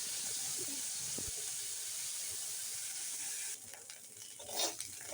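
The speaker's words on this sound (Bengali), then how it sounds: "গরম তেলে চিংড়ি মাছটা দিয়ে এটাকে একদম মচে করে ভাজা করে দিচ্ছি।" Dried shrimp, seasoned with salt and turmeric, frying in hot oil: a soft, steady sizzling hiss that carries on quietly, then a brief scraping stir near the end.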